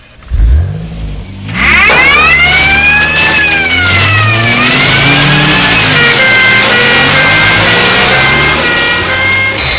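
Airport crash tenders race toward the runway. A loud, close engine revs continuously under a wavering, rising and falling high whine that holds steady to the end.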